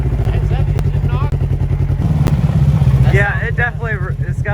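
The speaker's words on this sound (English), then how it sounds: "it's got a little rattle somewhere. That's a knock." A brand-new side-by-side UTV engine idles with a rough, uneven knocking and rattling, loud and close, while people talk over it.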